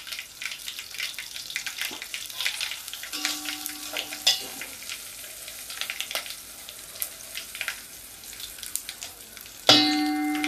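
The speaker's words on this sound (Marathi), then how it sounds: "चमच्याचा आवाज येतोय" A metal spoon clanks against a pan while mustard seeds, chilli and asafoetida sizzle in hot oil for a tempering; steady frying hiss with a few sharp ringing knocks, one louder clang near the end.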